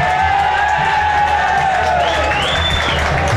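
A football stadium crowd roars and cheers a substitution during a Série A 2024 quarter-final, a dense continuous wash of voices with whistles and shouts rising over it.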